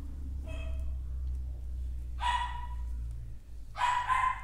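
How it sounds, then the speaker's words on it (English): A four-month-old puppy barks indoors, giving three separate sharp yips spaced across a few seconds over a low steady background hum, fairly close and moderately loud. "And you hear my puppy dog barking."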